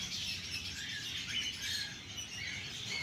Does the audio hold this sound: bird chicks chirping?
yes